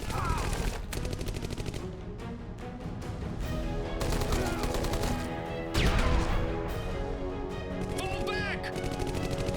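Explosions and heavy gunfire in Rambo The Video Game: Baker Team, dense rapid bursts of shooting with booming blasts throughout, loud and continuous while someone talks over it.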